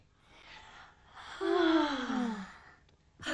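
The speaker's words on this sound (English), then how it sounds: "It's a yawn." A child's long drawn-out yawn, breathy at first and then rising into a voiced, falling moan before a short intake of breath at the end.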